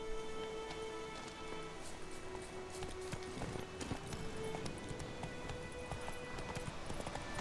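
Roach, Geralt's horse in The Witcher 3: Wild Hunt, trots with steady rhythmic hoofbeats over a dense layer of in-game ambience and a faint sustained musical tone, at moderate volume, with no speech.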